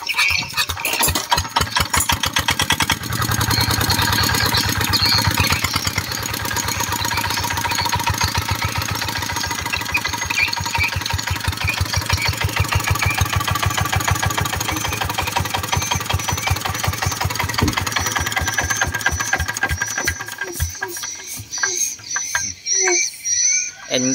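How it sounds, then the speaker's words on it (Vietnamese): A Zanma F6 engine running, a close, loud, rapid steady chugging with a mechanical rattle that holds for about twenty seconds, then sputters and fades as it slows to a stop. "quay lên cho bà con nghe thử cái máy thôi"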